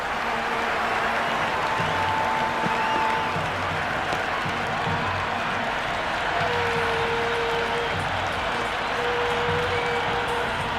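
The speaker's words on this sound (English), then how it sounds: "the crowd have joined the party. It's pretty noisy at the ground." Simulated cricket ground crowd in Cricket 26, a CSK vs RCB match, with sustained applause and cheering, a continuous loud roar with clapping and faint tonal horn-like lines running through it.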